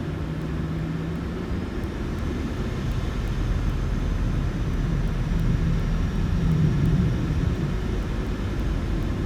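A Jet2 Boeing 737-800 taxis in Microsoft Flight Simulator 2020, its jet engines a steady low rumble and hum heard close from the cockpit, continuous and unchanging, with no talk.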